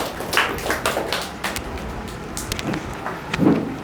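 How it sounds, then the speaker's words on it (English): A classroom audience gives a student speaker a scattered round of applause, with light, uneven claps popping up irregularly against a quiet room. "So big applause for Sai Devre"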